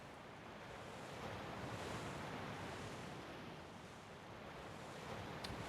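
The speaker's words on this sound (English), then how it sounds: "It's supposed to be the soothing waves." Soothing ocean waves from the Tales of Destiny game wash in a soft, continuous rush of surf, faint and steady, with a small tick near the end.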